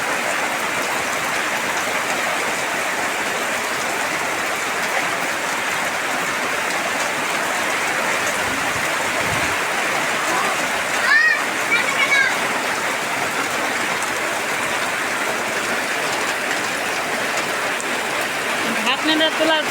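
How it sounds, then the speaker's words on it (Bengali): Heavy rain pours steadily, a dense continuous roar of water falling close by, with a few faint brief sounds rising above it midway. "দেখুন কত জোরে বৃষ্টি আসে গেছে দেখুন"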